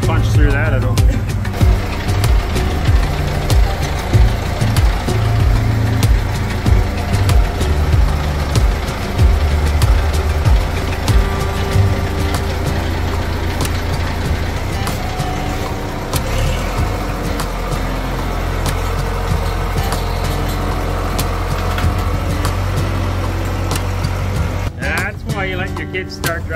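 A homestead tractor driven by a kid rumbles steadily close by, its engine a continuous low chug that stays loud throughout, with a voice talking over it at times.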